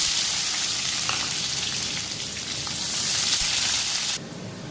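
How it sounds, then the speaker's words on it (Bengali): Onions fry in oil in a pan for khichuri, giving a loud, dense crackling sizzle that stays steady for several seconds and then drops sharply quieter near the end, heard close without speech. "পেঁয়াজগুলো ভাজা হয়ে গেছে।"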